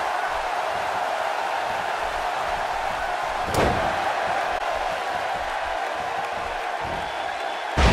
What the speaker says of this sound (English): Wow, he just slammed him with ease.